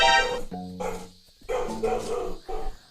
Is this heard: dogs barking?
yes